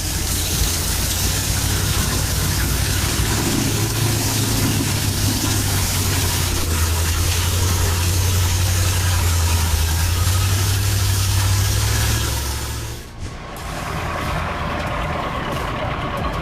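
A Ural off-road truck engine drones loud and steady under heavy load as it drives through a river, the roar holding for about thirteen seconds before dipping briefly and resuming.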